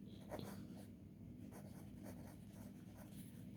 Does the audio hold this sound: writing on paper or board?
yes